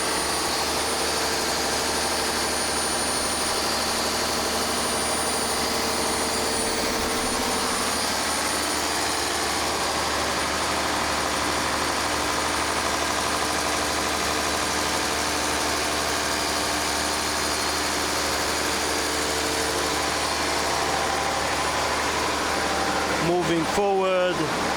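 Engines run steadily in the engine room of a passenger casino and event vessel, a loud constant droning hum with mechanical whine that persists throughout, with a brief clatter near the end.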